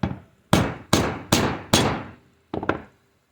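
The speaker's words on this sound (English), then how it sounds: "Look at that nice punched out hole for the gasket." A hammer strikes a hole punch through a small-engine carburetor gasket on a snow blower, giving four loud, evenly spaced metallic thuds followed by two quicker lighter taps, close up with no talking.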